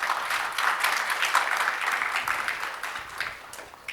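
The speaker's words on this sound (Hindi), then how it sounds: "ताली बजा सकते हैं" An audience at a Jeevan Vidya introductory camp at Niranjan Dharamshala in Raipur claps together in a dense, continuous round of applause that holds steady for several seconds before thinning out near the end.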